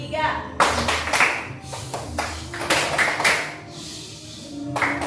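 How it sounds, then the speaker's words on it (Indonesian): Hand clapping during a pattern-recognition classroom activity: a series of sharp, close claps in an irregular rhythm, with brief pauses between bursts and faint room noise and murmuring underneath. "tepuknya kira-kira berkali-kali atau hanya sekali?"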